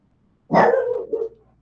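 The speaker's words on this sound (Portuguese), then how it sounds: "O cachorro querendo participar da aula aqui." A single dog gives one loud, close bark that breaks into a short second yelp, cutting through an otherwise quiet indoor room.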